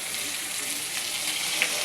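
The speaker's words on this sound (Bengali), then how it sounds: "আমার রসুনটাও কষে গেল, মোটামুটি ওটা কষানো হয়ে গেল" Garlic fries in a pan with a dense, continuous sizzling hiss, steady and close throughout, with no talking.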